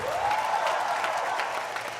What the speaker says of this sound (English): Usa ka makusog nga clap offering.